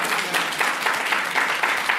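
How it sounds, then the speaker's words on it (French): A church congregation applauds during a French-language worship service, a steady wash of many hands clapping at close range with no voices over it. "Applaudissez le Seigneur."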